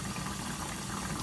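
Cassava pieces frying in oil in a small pot, a dense continuous bubbling sizzle held at steady loudness close by, without any speech.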